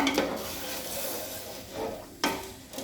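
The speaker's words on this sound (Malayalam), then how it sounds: "ഇനി നന്നായിട്ടൊന്ന് ഇളക്കി കൊടുക്കാം" Vermicelli payasam being stirred in a pot after the second coconut milk goes in, a soft continuous scraping and swishing with a faint simmering hiss and a couple of sharper spoon knocks against the pan.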